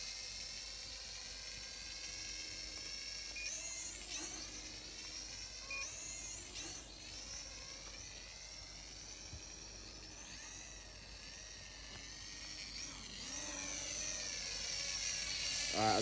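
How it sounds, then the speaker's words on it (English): A SkyViper Nova FX toy drone in flight, a steady high-pitched propeller whine that sweeps up and down in pitch as it maneuvers, continuous and moderately loud with no talking. "this drone is insanely cool"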